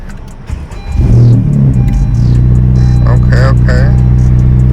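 A 10th-gen Honda Civic Si engine, fitted with a flex fuel kit, cranks and fires for its first start on E85, rising from quiet to a loud, steady idle rumble that holds, with a voice speaking briefly over it.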